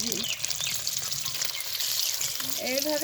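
Beaten egg mixture seasoned with salt and turmeric frying in hot oil, a steady close sizzle lasting throughout with a brief scrape near the end.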